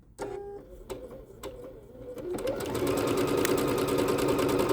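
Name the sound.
Bernette B-77 sewing machine sewing stitch number 164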